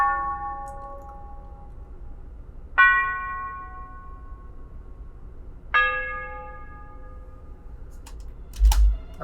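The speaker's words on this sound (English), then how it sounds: "It's the Tubular Bell." Tubular bell sample, a Detroit-style bell in FL Studio with basic reverb, struck three times at even intervals of about three seconds, each bright metallic tone ringing and decaying, followed by a short clatter at the end.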